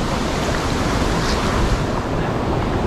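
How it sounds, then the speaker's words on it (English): River water rushes past near three large swimming pools on an outdoor river trip, a loud, continuous broadband roar with some wind buffeting on the microphone and no speech. "There's too much water moving."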